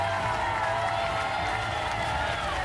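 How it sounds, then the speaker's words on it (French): Studio audience on the French game show Les 12 coups de midi applauding and cheering, a dense, continuous wash of clapping mixed with crowd noise and a steady musical tone underneath. "Je voudrais qu'on applaudisse encore Monsieur Christian parce"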